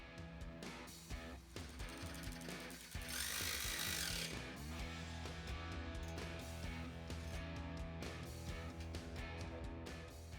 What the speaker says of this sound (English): You can tighten these fasteners now.